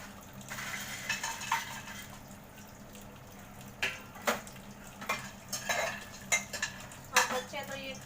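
Food added to hot oil in a pan at a home kitchen, a steady frying sizzle with clinks and scrapes of a utensil against the pan, sharp taps scattered throughout.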